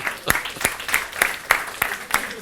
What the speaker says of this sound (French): Je voudrais qu'on applaudisse très fort de la société Stroman.